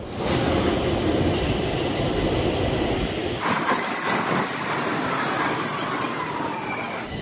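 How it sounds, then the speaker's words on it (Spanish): A long metro train passes close by in Sweden. It starts as a loud rushing roar with wheel squeal and rail clatter, then the roar drops to a lighter rumble as the cars continue rolling past. "Era re largo el metro, ¿eh?"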